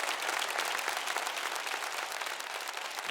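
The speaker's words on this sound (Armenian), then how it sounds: "բարձր, ծափարենք" Studio audience applause for the guests on an Armenian television talk show: dense, steady clapping from a full crowd that fills the whole stretch at an even level, with no voices above it.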